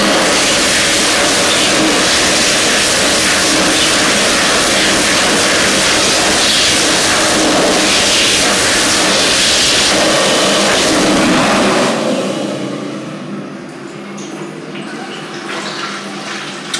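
A Hokwang HK JA05S high-speed hand dryer in the washroom of The Steam Packet pub in Chiswick, London blasts with a loud, harsh roaring rush for about twelve seconds, then cuts off, leaving a quieter fading hum.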